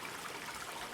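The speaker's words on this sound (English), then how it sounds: "who like the river rushing by" A river rushes steadily through Peneda-Gerês National Park, a continuous broadband wash of flowing water with no voices, even and close throughout the short moment.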